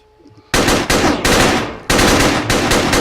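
Rapid automatic gunfire in a video game with police nearby, loud and close, in long sustained bursts with a short gap near the middle and a brief pause before a second long burst; the bursts begin after half a second of near silence.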